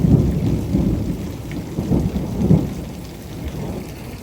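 A severe thunderstorm with heavy downpours, gusting 30 mph winds and close lightning: steady rain roars throughout while deep thunder rumbles swell and peak, loud and near, with no voices.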